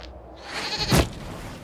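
A goat bleats once in the fantasy video game Dragon Age Inquisition, a single short wavering cry rising over a soft ambient background.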